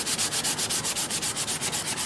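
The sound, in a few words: sanding wood of a custom quilted mandolin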